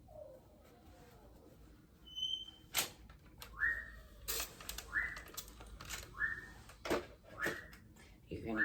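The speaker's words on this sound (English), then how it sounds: "hear my bird" A pet bird gives a series of short, bright whistled chirps roughly once a second, close by, mixed with sharp clicks and tapping and faint voice-like sounds in the background.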